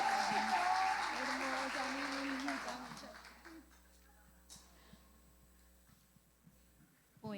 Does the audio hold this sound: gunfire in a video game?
no